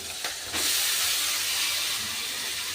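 Cabbage dropped into a hot pan with frying shrimp, a couple of soft knocks followed by a sudden loud, steady hissing sizzle that fills the rest of the clip.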